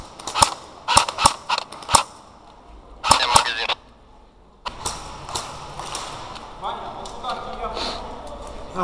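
Airsoft guns fire in an indoor skirmish, with sharp bursts of several quick shots, pauses in between, then denser shooting amid movement and background clatter.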